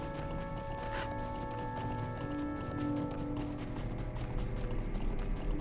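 Horse hooves clopping steadily in The Lord of the Rings Online, a continuous running gait heard amid the game's music and ambience, moderately quiet.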